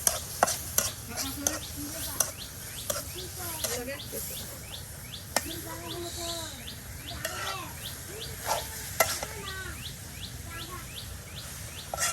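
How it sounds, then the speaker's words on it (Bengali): Vegetable fritters frying in hot oil in a village kitchen, a steady sizzle and occasional stirring clatter, with birds chirping nearby throughout. "এই যে এখন আপনার তেলের সাথে এগুলি একদম ভেজে নেওয়া হবে"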